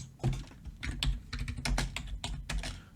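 Rapid, close clatter of keys on a computer keyboard, an uneven run of firm taps with no talking.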